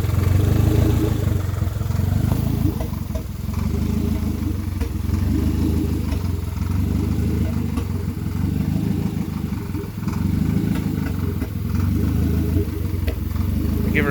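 Honda Accord CB7 fitted with a DSM turbo engine running with no exhaust, a loud rough drone and clatter that holds steady with mild rises in revs, limited to low RPM.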